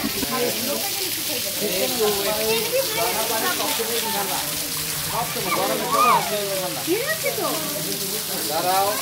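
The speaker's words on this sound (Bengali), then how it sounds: "এখানে ঝর্ণার থেকে কীভাবে পানিটা পড়ছে ঝিরিঝিরি হয়ে" Water spills from a waterfall at Kaptai in Rangamati, Bangladesh, making a steady broadband hiss that runs under people talking throughout.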